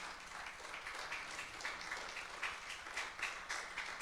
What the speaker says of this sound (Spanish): Dale fuerte el aplauso al Señor en esta mañana